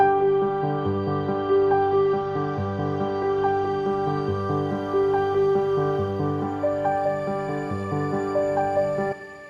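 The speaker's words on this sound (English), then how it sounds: "I've got the pad starting with a low pass filter and sort of filtering up" A sustained synth pad holds soft chords, its tone gradually brightening as a low-pass filter opens up over several bars, with no other sounds.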